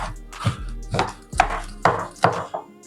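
A knife finely chopping halved garlic taps rapidly on a cutting board, about six sharp chops in an uneven rhythm, close and crisp.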